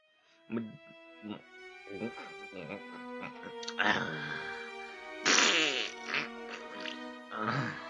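A cartoon fart in an animated Moomin episode, a few fluttery bursts mixed in with animated character voices and music over nearly eight seconds.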